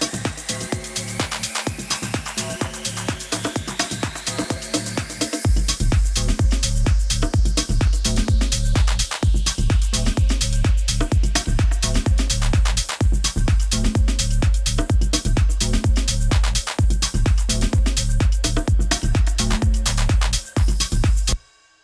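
Electronic drum groove layering a pounding kick, closed hi-hat, shaker and cymbals in a steady, driving loop, loud and busy, with the low end swelling in after the first few seconds.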